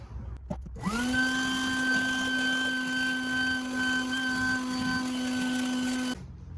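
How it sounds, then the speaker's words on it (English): A vacuum cleaner runs over the engine bay of a GMC Sierra pickup during a fuel injector replacement, its motor spinning up within a second, then holding a steady, close, loud whine before cutting off near the end. "Now I'm gonna hit it with the vacuum."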